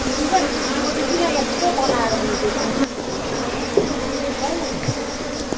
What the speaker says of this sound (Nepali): आज मैले तपाईहरुलाई माउरी आएको भिडियो चाहिँ देखाएँ